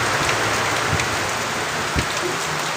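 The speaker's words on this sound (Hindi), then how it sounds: "पूरा खतरनाक वर्षा था" Heavy rain pours steadily on a rural home, a dense continuous hiss of drops striking surfaces, with a couple of soft low thumps in between and no voices.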